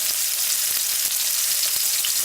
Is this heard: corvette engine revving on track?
no